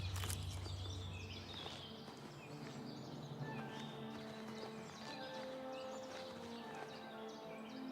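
Horse hooves clip-clop at a walk in the video game Oblivion Remastered, a soft, regular plodding under game music and ambient tones, fairly quiet and steady throughout.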